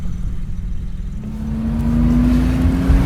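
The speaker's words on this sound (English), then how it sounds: "I'm going to let the engine run" A 1977 Porsche 911S Targa with a 2.7L engine runs steadily at close range, a continuous mid-pitched drone that climbs slightly and grows a little louder as it revs, with no talking.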